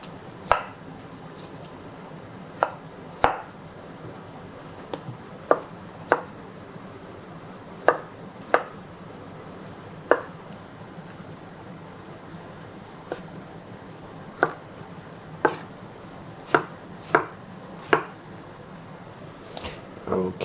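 Knife chopping smoked, peeled eggplant into pieces on a cutting board: sharp, irregular thuds spaced about a second apart, close and clear over quiet room noise.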